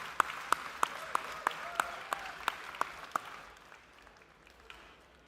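Applause at a Broad Arrow collector car auction in the Monterey Jet Center after a winning bid: a close, sharp single clapper keeps an even beat over a thinner crowd that fades out after about three seconds.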